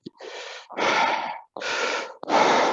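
A voice imitates a pleuritic blowing breath sound: four long, loud breathy whooshes in a steady in-and-out rhythm, close up, with no speech.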